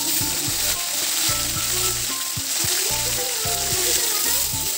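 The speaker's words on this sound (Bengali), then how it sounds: "এলাম উল্টি দিয়ে ওই পাশখানে ভালো করে ভাজি নিম।" Katol fish pieces fry in hot oil with a loud, steady sizzle and crackle that runs throughout, with some low tonal sound in the background as the fish is turned.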